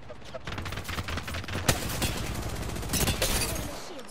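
Apex Legends gunfight with a dense, rapid volley of gunshots, loud and continuous over a low rumble, with heavier bursts midway and near the end, and a voice talking underneath.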